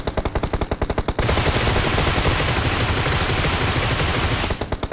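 Automatic weapon fire rattles in BGMI, the battle royale shooter: rapid, loud bursts at the start and end with a dense, continuous roar of gunfire between them and no voices.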